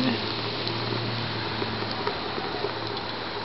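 A pumice concrete rocket stove burns with a steady roaring draft, a continuous close rushing hiss with faint crackles and no breaks.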